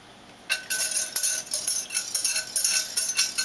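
A whisk stirs buttermilk and egg into flour in a mixing bowl for cheddar cream cheese soda bread, giving steady rhythmic scraping and light clinking strokes against the bowl, close and fairly loud, with no talking.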